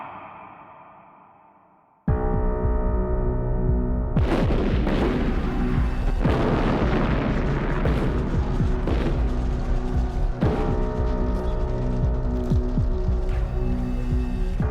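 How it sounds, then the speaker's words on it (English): Artillery fire across the Anzac positions at Gallipoli, heard as a dense, sustained barrage of loud booms and rumbling blasts after a quiet opening, with repeated sharp impacts piling over a continuous low roar. "With the whole of the Anzac positions under artillery fire"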